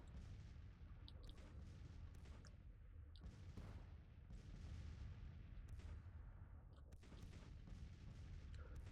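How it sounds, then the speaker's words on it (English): An artillery barrage in the Civil War strategy game Grand Tactician: The Civil War, heard as faint, distant cannon booms and scattered firing over a steady low battle rumble, with no talk. "Looks like we've inflicted 0 casualties with our artillery barrage."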